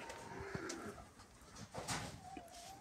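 Van high-flyer pigeons coo softly in a loft, scattered low calls and occasional wing flutters over faint background noise, with no one speaking.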